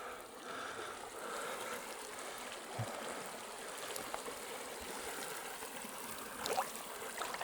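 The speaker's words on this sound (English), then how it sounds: "As that water's coming down, this hot water's mixing in with it." Hot spring water streams steadily down into a soaking pool at a campsite, a soft continuous rushing trickle heard alone at low level with a few faint splashes.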